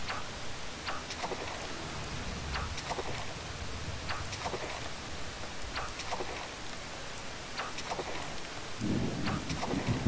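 Steady rain falls in Harvest Moon: Save the Homeland, a continuous dense hiss with no voices, broken by soft scattered clicks and ticks.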